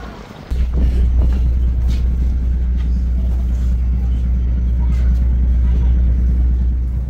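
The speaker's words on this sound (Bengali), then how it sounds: "চরজালালপুর লঞ্চ ঘাট থেকে ছেড়ে যাচ্ছে আমাদের লঞ্চ।" A passenger river launch pulls away from the Charjalalpur launch ghat, its engine starting with a sudden jump in level and then holding a loud, steady low throb with some wind over it.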